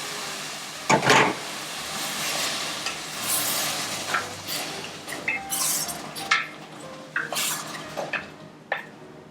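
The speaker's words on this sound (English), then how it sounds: "Now we're going to add the tomatoes." Tomatoes tipped into a hot pan of eggplant curry and stirred, giving a sizzle with repeated scraping and clinks of a utensil against the pan, close and moderately loud, with no talking.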